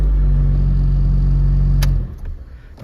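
A 2006 Honda Fit with an L13 engine idles with a loud, deep, steady rumble up close, then cuts off abruptly near the end, leaving faint clatter.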